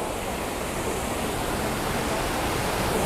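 A waterfall gives a continuous broadband roar of rushing water, steady and close, with no pauses and no talk over it.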